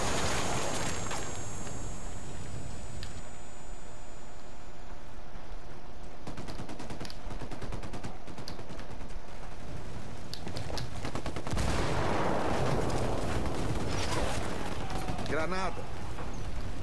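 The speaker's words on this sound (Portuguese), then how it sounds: "Andem, vai explodir." Gunfire crackles in dense bursts throughout a firefight in Ghost Recon Wildlands, with a grenade blast booming near the end, loud and close, while voices talk over the shooting.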